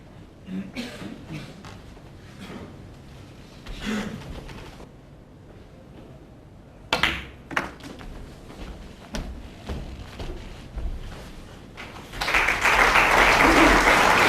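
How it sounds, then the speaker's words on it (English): A short ripple of applause swells up near the end, after a stretch of quiet room sounds and a few soft taps, in a snooker arena during a World Snooker Championship quarter-final. "a ripple of applause"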